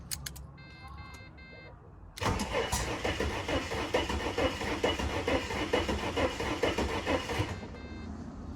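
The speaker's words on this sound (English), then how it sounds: "the engine actually turned over" A 4.0L inline-six car engine cranks briefly, then catches and runs with a loud, steady rumble for several seconds before dropping back to a quieter idle.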